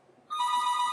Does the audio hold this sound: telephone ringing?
yes